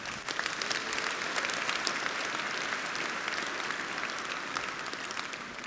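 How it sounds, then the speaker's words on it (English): A large conference audience at a Red Hat IoT and middleware summit breaks into sustained applause, a thick, even wash of clapping that holds steady for several seconds with no speech on top. "I think these guys are a really big round of applause."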